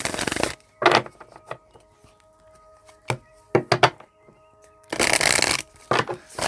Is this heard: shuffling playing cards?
yes